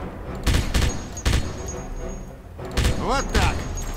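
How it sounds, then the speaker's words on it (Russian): Explosions as a radio tower is blown up in Wolfenstein, with heavy booming blasts and bursts of rapid gunfire under loud in-game voices and a player talking. "Теперь ты знаешь, как это делается, и сможешь самостоятельно взрывать другие радиобашни"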